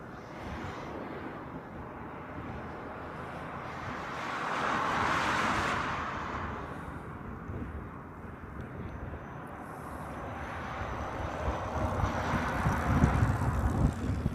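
A departing airliner at Honolulu airport roars in the distance. The broad rumble swells and fades twice, then builds toward the end over outdoor wind buffeting.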